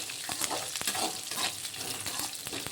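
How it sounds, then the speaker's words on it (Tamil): Green chilies sauté in hot oil in a pan for an Andhra-style ivy gourd pachadi, a steady close sizzle and crackle with a few light stirring scrapes throughout. "பச்சை மிளகா நல்லா வதங்கிச்சு"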